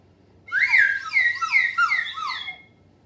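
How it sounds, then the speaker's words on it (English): A slide whistle swoops up and down in several quick wavering glides, bright and close, playing alone for about two seconds. "that's a slide whistle"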